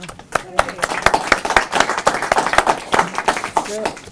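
Applause from the audience at a November 2018 Portneuf regional county council meeting: steady, fairly close clapping from a modest crowd, running for several seconds with brief voices murmuring underneath.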